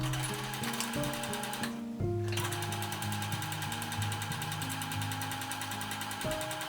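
A sewing machine runs steadily while stitching hanbok skirt panels, a fast even mechanical chatter with brief pauses and changes in speed, no talking.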